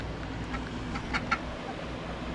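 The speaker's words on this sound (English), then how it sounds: "that's a Mrs. Duck" A female duck at a campground gives a few faint, short quacks near the middle, heard from a little distance over steady outdoor background noise.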